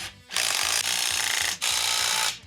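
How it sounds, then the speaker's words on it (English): Bolts being torqued down on an engine stand mounting plate, with loud, rapid mechanical rattling in three long bursts separated by brief pauses, close to the mic. "and then we'll go ahead and torque these down."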